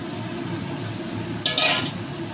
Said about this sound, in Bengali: এবার আমি আলুটা দিয়ে নিচ্ছি